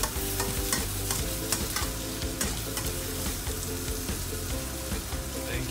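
Egg and noodles stir-fried in a pan for fried egg noodles, loud continuous sizzling with frequent clattering scrapes and stirring knocks close up.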